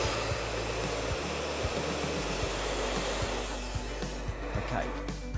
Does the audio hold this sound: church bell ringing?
no